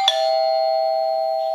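Third ringtone of an Aosu Video Doorbell Ultra base unit: a single struck chime followed by a long, steady sustained tone fading slowly, heard alone and close.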